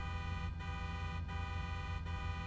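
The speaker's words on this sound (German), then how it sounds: "Wer hupt hier die ganze Zeit?" A car horn honks in Grand Theft Auto V, a sustained, buzzing toot held steadily throughout with brief gaps, loud and close amid game noise, with no talking.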